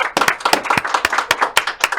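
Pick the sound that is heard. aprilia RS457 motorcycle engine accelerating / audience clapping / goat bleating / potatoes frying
audience clapping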